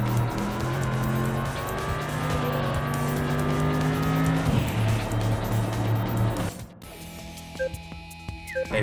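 A racing car in the video game Import Tuner Challenge, its engine roaring loud and close with rising revs and gear shifts, then cutting off abruptly before quieter game sounds and faint beeps.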